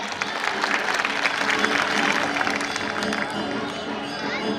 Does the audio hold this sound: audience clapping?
yes